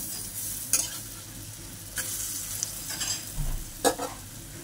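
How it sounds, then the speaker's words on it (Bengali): Wet lentil dumplings (bora) fry in oil with a soft background sizzle, broken by several sharp scrapes and clinks of a spatula stirring and lifting them, with no voices. "এভাবেই কিন্তু আমি সব বড়াগুলো ভেজে নেব।"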